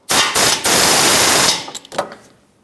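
A power tool runs on the 21mm mounting nut of a new lower ball joint on a 2006-2011 Honda Civic, giving a loud, close rattling burst of about one and a half seconds, then a few short clicks and clatters.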